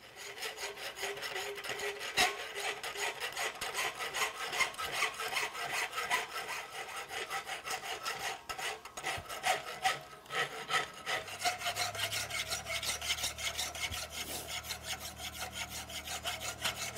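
A farrier rasping a horse hoof, a continuous rhythmic scraping of repeated back-and-forth file strokes, close and steady throughout, with no talk.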